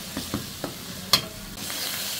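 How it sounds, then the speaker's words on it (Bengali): Ginger-garlic paste with ground nuts, raisins and fried onion frying in oil, a soft steady sizzle broken by a few spoon scrapes and one sharp clink, quiet and close with no talk. "মশলাটা ভালো করে ভেজে নিচ্ছি।"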